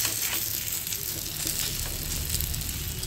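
Three bread slices toasting in ghee on a large tawa give a dense, continuous sizzle, close and even throughout with no talk.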